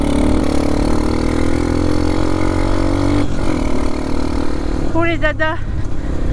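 A dirt bike engine idles loudly and steadily nearby, with a voice briefly speaking over it toward the end.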